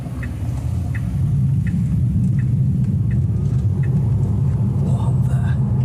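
An electric car drives along with a steady low road rumble and faint, regular ticking. A person talks inside the cabin over the rumble.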